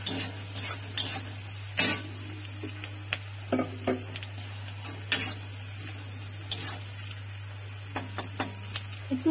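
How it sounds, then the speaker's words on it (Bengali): Chopped onion fries in a pan for a shrimp and kochur loti curry, with soft sizzling and irregular clicks and scrapes of a spatula stirring it, over a steady low hum, without talk. "এই পেঁয়াজ কুচি দিয়ে দেবো। পেঁয়াজটা মোটামুটি একটু লালচে টাইপের"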